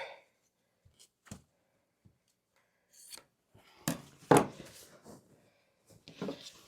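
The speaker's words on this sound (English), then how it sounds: "I'm going to cut this just a hair past the other border." Scissors or a rotary cutter slicing quilt fabric in quiet sporadic snips and rubs, faint and close, with brief handling noises between cuts.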